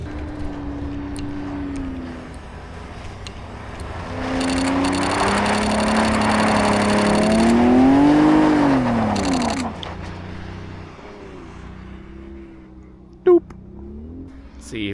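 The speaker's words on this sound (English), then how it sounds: "snow and powder up into the air" Lamborghini Super Trofeo race car drifting on a frozen lake, its engine revving and rising in pitch as it slides past, loud and close with throttle surges that fade away, while people talk nearby.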